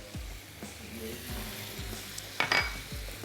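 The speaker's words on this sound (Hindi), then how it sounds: "चलिए इसको हल्का सा सौते कर रहे हैं" Peas and other vegetables sauté in a pan for chicken soup, with a steady sizzle broken by a few soft stirring scrapes and a brief clink of utensil on metal.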